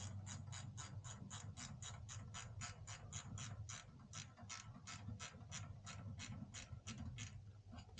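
Rapid even clicking of a ratchet socket wrench tightening an intake clamp on a 2021 Subaru WRX, roughly thirty close, crisp pawl clicks in a steady run.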